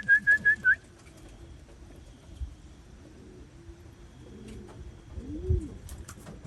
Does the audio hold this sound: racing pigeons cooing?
yes